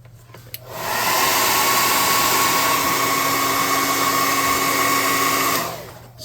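A hair dryer blows steadily for about five seconds to dry paint on a small miniature figure, its loud whine switching on and off abruptly.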